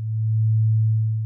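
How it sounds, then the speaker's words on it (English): A pure sine wave from a modular synthesizer, sent through a filter, holds one steady low tone with no overtones, loud and unchanging for just over a second. "Sine waves have no harmonics, only the fundamental frequency."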